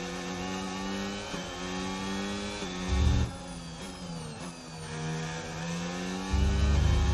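In the F1 25 video game, a Formula 1 car engine with DRS open whines high and loud, climbing through repeated upshifts with short pitch dips between gears and a low rumble at moments.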